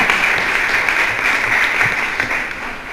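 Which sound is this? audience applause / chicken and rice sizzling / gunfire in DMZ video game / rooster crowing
audience applause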